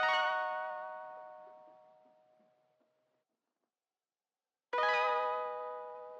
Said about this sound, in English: I had this Mellotron sound that sounds like this.